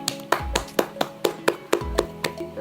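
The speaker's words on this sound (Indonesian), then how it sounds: "beri tepuk tangan buat kelompok 2" Classmates clap for a presenting group during a vocational high school lesson, producing about nine sharp, evenly spaced claps in a steady rhythm over a faint constant hum in the room.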